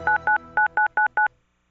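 Six crisp telephone keypad tones beep one after another in an even rhythm, the way a number gets dialed in a radio ad, each short and loud with brief gaps and nothing else behind them.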